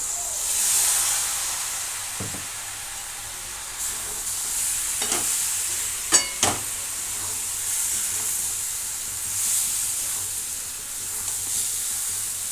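Water goes into spiced masala that is sizzling in a pan, giving a steady hiss and sizzle throughout, with a few short knocks and scrapes near the middle and no talking.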